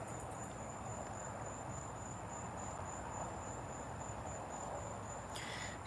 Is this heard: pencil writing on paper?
no